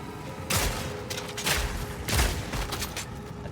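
A grenade goes off in the action role-playing game Path of Exile 2, giving several sharp, loud bursts about a second apart over a steady background hum.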